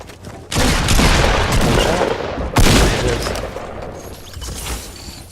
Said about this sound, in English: He did get a shotgun shot off on us